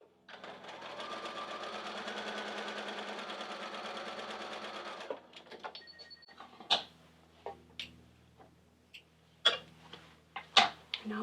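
A sewing machine stitches quilt star pieces together in a steady, fast whirring run of about five seconds, then stops and leaves scattered clicks and handling noises.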